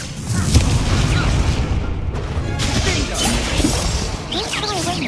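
Explosive Expulso spell blasts in the Hogwarts Legacy video game, a dense, loud rumbling barrage of booms and crashes running throughout, with a voice talking over it.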